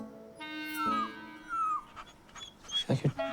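A dog whimpers and whines in short, high, sliding cries that come and go over a few seconds, with some soft background noise and a brief rustle near the end.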